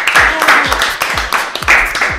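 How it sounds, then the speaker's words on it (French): A studio audience at a TV show applauds after the horoscope segment, a steady burst of clapping lasting a couple of seconds with a low rhythmic beat pulsing beneath it. "applaudissements pour cet horoscope"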